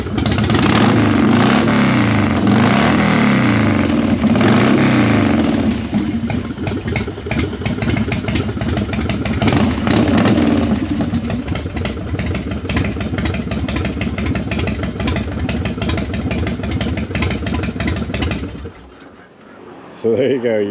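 Five custom motorcycles start up together and rev at once, making a loud, sustained mix of idling and revving engines that fills the space before cutting off near the end.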